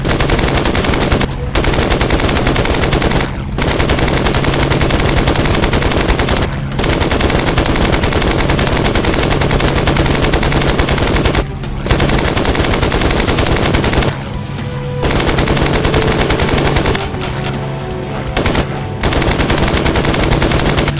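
A fighter plane's machine gun in the video game Flying Tigers: Shadows Over China fires loud, sustained bursts, with only a few short breaks over the whole stretch.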